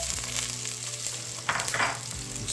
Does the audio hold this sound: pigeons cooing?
no